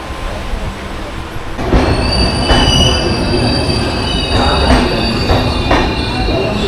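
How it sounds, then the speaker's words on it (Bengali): The Sealdah Puri Duronto Express rolls on rails out of Kharagpur at night, wheels squealing loudly in sustained high tones over a continuous rumbling roll that grows heavier after a few seconds. "ঠিক সময় মতন খড়গপুর থেকে কিন্তু ট্রেন চলা শুরু হয়ে গেল আবার নেক্সট গন্তব্যের উদ্দেশ্যে"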